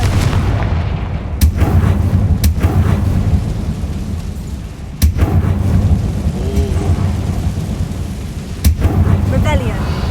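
In Hogwarts Legacy, the Confringo explosive spell is cast over and over in the game, giving loud booming blasts in a steady rumbling action soundscape.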